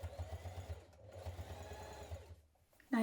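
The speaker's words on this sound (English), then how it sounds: "we're going to sew up each side of your strap. Top stitch up each side" Sewing machine top stitching along a backpack strap, a soft steady mechanical hum with a short pause midway and a stop near the end, fairly quiet and without talk.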